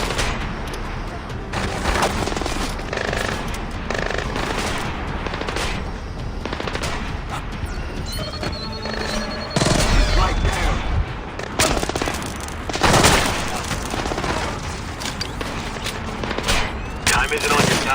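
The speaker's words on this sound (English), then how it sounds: "We're hearing small arms fire in the terminal, Sam." Small arms gunfire crackles in bursts throughout a firefight at an LNG terminal in the Splinter Cell Blacklist video game, with rapid volleys near and far and occasional voices over the shooting.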